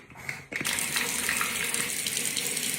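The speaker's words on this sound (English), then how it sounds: "Let's go wash my face and brush my teeth first." Water gushing steadily from a bathroom tap into a sink during face washing, starting abruptly after a brief handling sound and running loud and continuous, close by.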